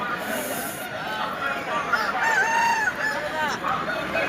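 A rooster crows at a busy poultry market, one drawn-out call rising over market chatter and other birds' noise, with people talking nearby.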